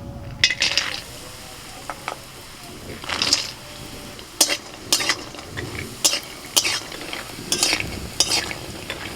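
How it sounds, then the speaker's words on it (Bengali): Lentil dumplings (bori) frying in mustard oil in a wok, with a steady low sizzle punctuated by sharp clinks and scrapes of a spatula stirring against the metal at irregular intervals. "বড়িগুলো ভাজা হয়ে গেছে"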